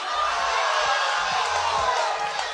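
A live comedy-show audience erupts in loud, sustained shouting and whooping, a dense crowd roar throughout, with scattered individual yells on top.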